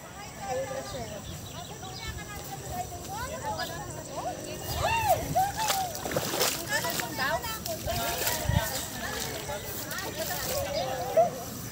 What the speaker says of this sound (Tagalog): Ang lakas ng tubig po nila dito.